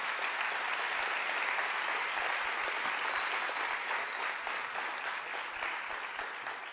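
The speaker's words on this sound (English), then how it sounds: "So can we please give that committee a round of applause?" A steady, dense round of audience applause fills a completion ceremony hall, sustained and even for several seconds at moderate distance, with a voice briefly starting to speak near the end.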